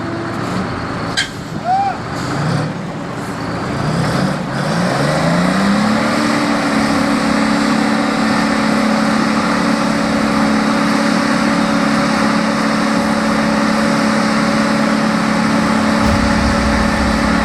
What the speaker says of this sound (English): This off-road beast is the Kenworth 963, a giant machine pulling an oil rig in Yemen.